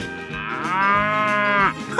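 A cow gives one long, loud, drawn-out moo that swells and then cuts off, heard close and alone.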